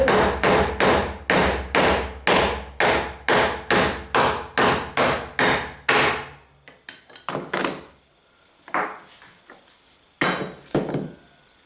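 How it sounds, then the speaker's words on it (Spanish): Hammer blows on a socket drive a bearing out of a Ford Fiesta MK1 alternator: about a dozen loud, evenly spaced metallic thuds, followed by a few scattered, lighter knocks and pauses. "con un vaso apropiado, le damos unos golpes"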